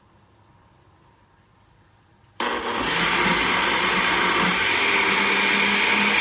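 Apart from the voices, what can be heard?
blender blending flan mixture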